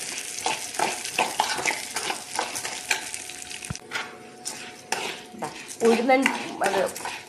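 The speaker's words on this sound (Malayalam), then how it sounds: "അപ്പോൾ അതിലേക്ക് വേണ്ടിയിട്ട് നെയ്യാണ് ഒഴിക്കുന്നത്." Ghee heating and frying in a pan while a spoon stirs and scrapes, with sizzling and clinks of utensil against metal, close and steady, a few brief voice sounds mixed in, while preparing chammanthi podi.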